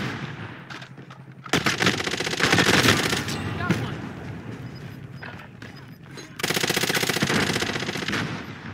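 Loud, close automatic gunfire in a Warzone match, with sustained bursts that stop and restart, and a heavier volley near the end; no one speaks during the shooting.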